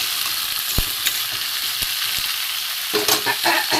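Botboti beans and cut potatoes fry in hot oil with black cumin, a steady loud sizzle broken by a few scraping stirs and knocks of the spoon against the pan, no voices.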